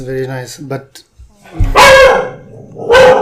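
A family dog barks twice, two loud, close, harmonic barks following a stretch of conversation, with people talking around them.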